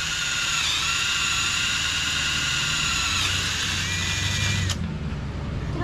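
A steady, loud whirring mechanical drone runs continuously while a spacer is tightened down during a manual jack plate install on a boat, then cuts off abruptly near the end.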